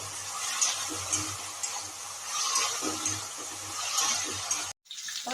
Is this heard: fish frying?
yes